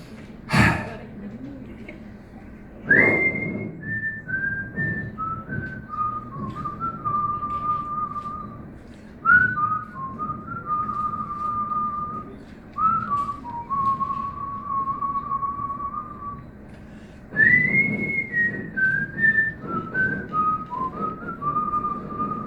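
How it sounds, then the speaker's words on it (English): Whistled melody carried by a group of whistlers in unison, phrases starting and stopping with short breaths between, no talking. "we will all whistle together"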